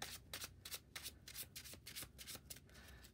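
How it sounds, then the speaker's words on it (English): A deck of Marvel Champions game cards being shuffled by hand, quick crisp riffling bursts repeating in an uneven rhythm, close and quiet, with no talking. "We'll give it a little shuffle. Shuffle, shuffle, shuffle."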